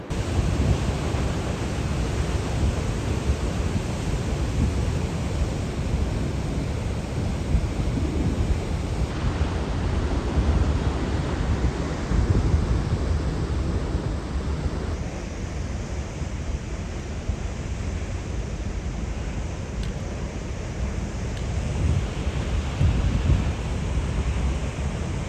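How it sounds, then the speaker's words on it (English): Vernal Falls in Yosemite roars with a loud, steady broadband rush of falling water and mist, continuous and close for the whole stretch, with no voices over it. "I'm standing on top of Vernal Falls now."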